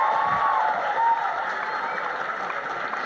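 Audience applause welcoming A.R. Rahman to the stage at an award ceremony, a dense, steady wash of clapping from a large crowd, with a faint voice briefly heard over it.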